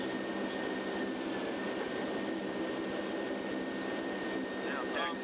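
Lockheed P-3 turboprop engines drone steadily and loudly while the aircraft taxis, a continuous broadband roar with a faint whine, heard from inside the plane.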